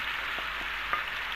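A potato filling rests in hot oil in a frying pan, giving a faint, even hiss with a few soft bumps as it settles, heard alone without voices.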